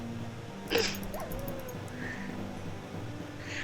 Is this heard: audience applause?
no